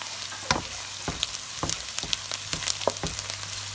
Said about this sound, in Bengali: পেঁয়াজকে আমি প্রথমে ভেজে নিব